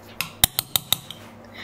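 A potato masher presses hot boiled potatoes in a pot, giving five or six sharp metallic clinks in quick succession, close and fairly loud, then a faint tap.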